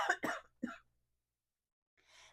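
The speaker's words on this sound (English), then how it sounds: "excuse me, I'm going to cough" Three quick, close coughs from a woman in a quiet room, two sharp bursts close together and a third just after, followed by silence and faint breathy noise.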